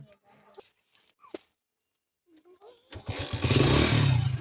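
A motorcycle engine starts after a few seconds of quiet handling noises and scattered voices, then catches and settles into a loud, close, steady running rumble.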